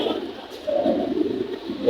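Pigeons coo at a Hasnabad market, a soft, low, continuous burbling murmur close by with no talk over it.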